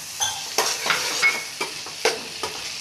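Paneer pieces and kasuri methi frying in a pan for paneer bhurji, a steady sizzle broken by repeated scraping stirs roughly every half second, close and moderately loud with no talk.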